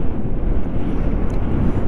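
Strong wind buffets a moving scooter on a long highway ride, a loud, continuous low rumbling roar pounding the microphone without a break.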